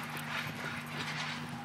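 A horse's hooves clip-clop at a steady gait while it is exercised, the rhythmic footfalls close and moderately loud over a low, constant hum.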